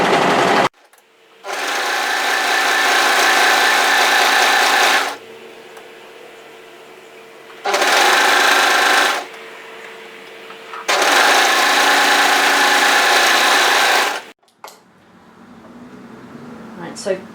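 Overlocker serger stitching a fabric seam on a cardigan collar, running in three loud, fast-whirring bursts of a few seconds each, close by, separated by quieter gaps.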